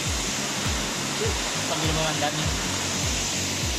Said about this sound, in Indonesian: kita lihat air terjun sangat indah ya